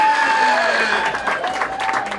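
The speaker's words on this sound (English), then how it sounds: "How about a big round of applause for the birthday girl?" Applause and cheering for the birthday girl fill a masquerade birthday fundraiser. A voice rings out over clapping that builds briefly and stays moderately loud for about two seconds.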